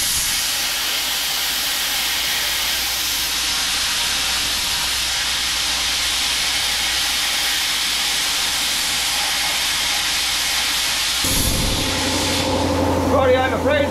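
A plasma cutter powered by a large air compressor cuts metal with a loud, continuous hissing rush of air, which changes abruptly near the end as the cut stops and a lower hum takes over.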